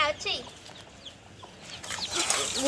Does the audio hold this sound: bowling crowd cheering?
no